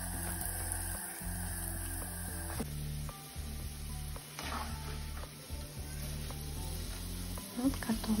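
Grated potatoes frying in hot oil: a continuous crackling sizzle under a voice, with occasional stirring scrapes and a short clatter near the end.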